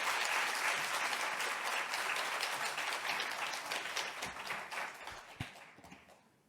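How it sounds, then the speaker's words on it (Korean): Church congregation applauding to welcome a visiting pastor to the pulpit, a steady wash of many hands clapping that gradually thins and fades out toward the end. "박수로 목사님 모시겠습니다."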